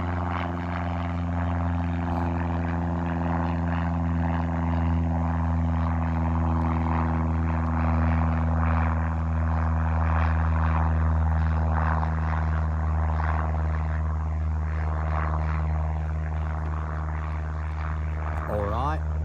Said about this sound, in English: We got a plane.